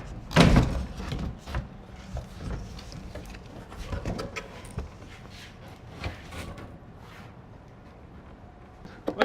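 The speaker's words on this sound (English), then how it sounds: "we're going to go ahead and tip the door frame forward and guide it out of the opening." An interior door frame is tipped forward and guided out of a wall opening, with a loud thump at the start followed by scattered knocks, scrapes and thuds of wood.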